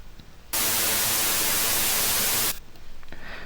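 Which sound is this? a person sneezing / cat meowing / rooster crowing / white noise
white noise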